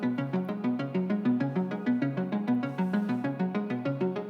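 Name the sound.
synth arpeggiator part in song chorus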